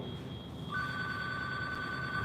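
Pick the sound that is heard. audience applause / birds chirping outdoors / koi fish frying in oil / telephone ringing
telephone ringing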